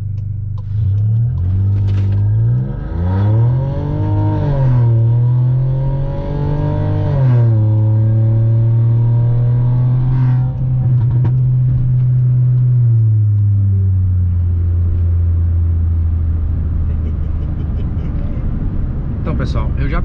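A Stage 3 tuned VW Polo Highline in sport mode with traction control off revs loudly and up close, its pitch climbing and falling several times before settling into a steady, heavy drone.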